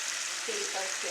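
A rohu fish head frying in a hot pan with onion, ginger and chilli paste gives a brief, steady sizzle, with a faint voice murmuring underneath.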